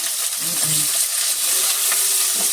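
Onion frying in a pan for a home-cooked chicken casserole gives a loud, close, continuous sizzle with brief low murmurs underneath.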